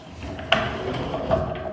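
A parts drawer in a motor lab workshop is opened or shut twice, each a short sliding clunk about a second apart, heard close over quiet room noise.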